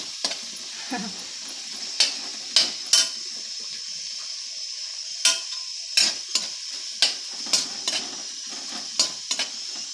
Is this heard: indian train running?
no